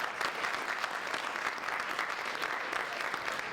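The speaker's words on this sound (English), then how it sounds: "I think that deserves a round of applause." An audience claps at a college elevator pitch competition, a steady dense patter of applause, moderately distant and sustained for several seconds without a break.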